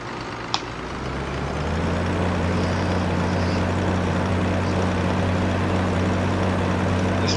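A tractor engine in the Farming Simulator 15 game runs steadily and loudly, a droning low hum that swells up after a second and holds constant, with a faint click near the start.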